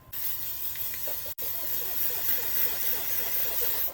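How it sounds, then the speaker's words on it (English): Continuous airy hiss of an aerosol makeup setting spray, briefly interrupted once, then resuming steadily close by. "It's like hairspray, but all that means is it's a good setting spray."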